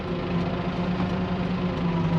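A tractor engine idles with a steady, loud, low rumble throughout, close by and continuous with no pauses.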